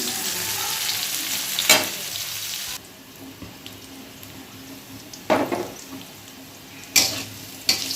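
Bitter gourd slices sizzle steadily in oil in a pan, with a few louder bursts of stirring and scraping of the utensil against the pan.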